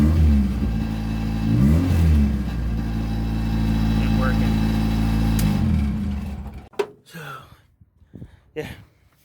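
Turbocharged Honda Accord F23 engine revving loudly for several seconds with a steady rising drone, then dropping off into short bursts and clatter as the revs fall away.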